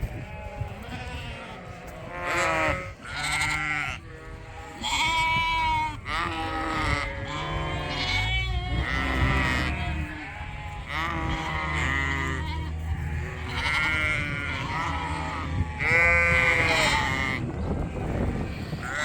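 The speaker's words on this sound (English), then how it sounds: "I'm going to try to get these sheep out of here so Arnie can get in." A flock of sheep bleats continuously inside a barn, many overlapping calls near and far, some loud and strained, forming a dense chorus.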